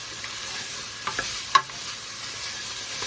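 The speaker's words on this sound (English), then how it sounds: "Once in a while, give that stuff on the bottom a little bit of a scrape." A spoon scraping the bottom of a pot of simmering beef stew, a few soft scrapes and one sharper clink over a steady low bubbling and sizzle.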